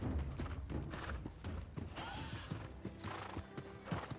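A horse's hooves clip-clop in quick rhythm in the video game New World, mixed with whinnies, combat hits and other game effects at moderate level.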